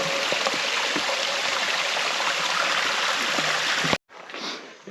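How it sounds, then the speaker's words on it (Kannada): Mountain stream on a forest trek route flows in a steady, loud broadband rush of running water, continuous for about four seconds before a brief cut to a quieter stretch of water. "ನೀರಿನ ಹೊಳೆ. ಸೊ ಕುಡಿಯೋದಕ್ಕೆ ಇಲ್ಲೇ ನೀರು ತುಂಬ್ಕೋಬೋದು."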